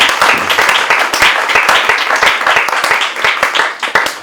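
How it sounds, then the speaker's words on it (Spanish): An audience at an editorial project presentation breaks into applause, loud close clapping with individual hand strikes audible, sustained evenly throughout with no talk over it. "Un aplauso para ella"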